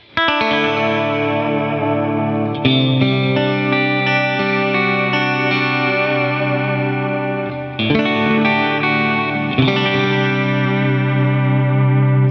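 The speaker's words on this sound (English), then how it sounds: "this is just basically a clean tone" A clean electric guitar with Strat-style pickups, through an HX Stomp XL, plays sustained, shimmering chords soaked in chorus, delay and reverb, changing chords every few seconds, alone with no voice.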